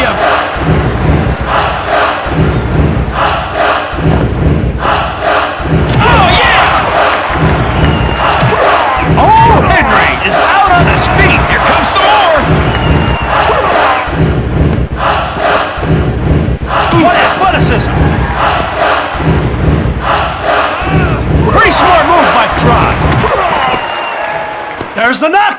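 A roaring crowd in the WWF Attitude wrestling video game on Dreamcast cheers steadily and loudly throughout, with rhythmic chanting swells, thuds and a commentator talking over it.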